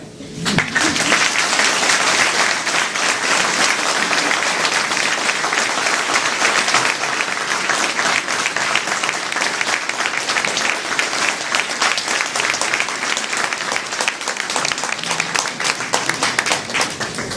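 Sustained, even applause fills a hall at a mayor's New Year meeting, many hands clapping loudly and continuously without a break, with faint murmurs beneath.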